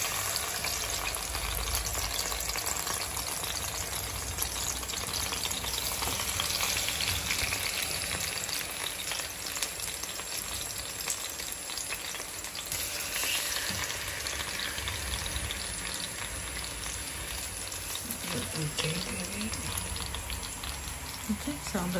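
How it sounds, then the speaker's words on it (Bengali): Capsicum fries in hot cooking oil with a dense, unbroken sizzle and crackle that stays close and even throughout, with faint voices in the background. "সো খাবার তেল দিলাইছি আর এখন ক্যাপসিকাস ভাজি দিন"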